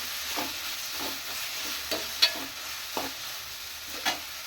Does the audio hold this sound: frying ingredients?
yes